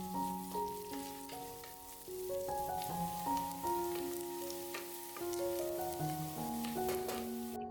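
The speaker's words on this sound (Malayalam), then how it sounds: "ഇനി ഈ സവാള നന്നായിട്ടൊന്ന് വഴറ്റിയെടുക്കുക" Sliced onions sautéing in a pan for erachi choru, a soft steady sizzle with stirring scrapes under a gentle melodic tune of stepping notes.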